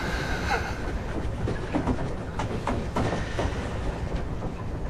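A train rolls along the rails with rumbling and irregular clicks and clacks of the wheels, steady and fairly close, with no voices.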